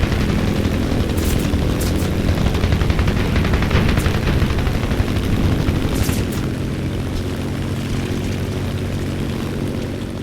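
An F6F-5 Hellcat in a flight video game drones steadily on propeller engine noise while bursts of machine-gun fire rattle out in short clusters, loud and close, during an attack on bombers; no talk.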